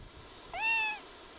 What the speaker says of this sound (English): It's unusual to see a cat here.